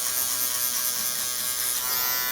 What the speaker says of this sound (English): I'm gonna use my Gamma Uno shaver.